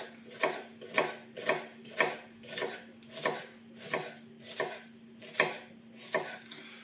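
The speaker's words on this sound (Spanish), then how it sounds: "vamos a utilizar cebolla morada. La vamos a picar en daditos muy pequeños." A knife dices red onion into very small cubes on a board for tartar sauce, nine steady, evenly spaced chops, close and crisp, with no talking.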